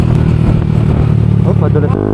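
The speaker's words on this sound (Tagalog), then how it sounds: "Ito yung manual, may brake. Ah, engine brake no." Manual motorcycle engine braking: a loud, close engine drone with rumble and clatter that shifts pitch near the end, under people talking.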